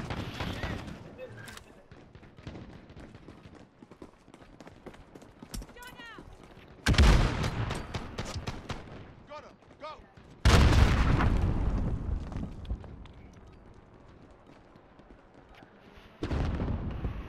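In a Call of Duty Modern Warfare match, loud bursts of gunfire crack out in a few heavy clusters amid game noise, while players talk over them.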